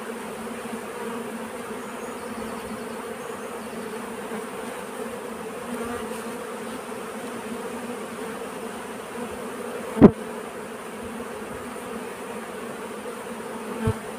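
Honeybees droning around a hive during an inspection ahead of swarming, a steady close hum that continues throughout, with a single sharp knock near the end.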